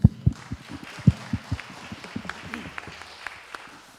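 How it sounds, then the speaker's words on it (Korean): Scattered claps from a seminar audience: a few loud, sharp close claps at first, then lighter, sparser clapping that thins out over several seconds. "이럴 때는 박수를 막 치시는구나."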